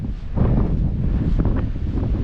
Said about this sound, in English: Bit windy here on the beach.